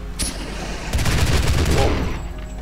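Weapon fire in the video game Doom (Back to Saturn X2, GZDoom), a sharp shot then a rapid burst of booming repeated blasts lasting over a second, loud and close, fading into a low rumble.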